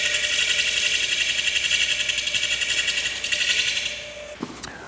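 A lathe spins a quartersawn white oak platter while a turning tool shear-scrapes its rim, giving a steady high whirring hiss over a motor hum that cuts off with a faint knock near the end.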